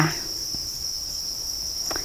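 Crickets on a cricket farm at evening feeding time, one high steady trill running unbroken through the clip with a couple of faint soft knocks in the background.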